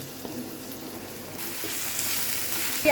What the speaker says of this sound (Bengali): পেঁয়াজটা হালকা ভেজে এর মধ্যে দিয়ে দিব আদা বাটা, রসুন বাটা, দিয়ে দিলাম মাংসের কিমা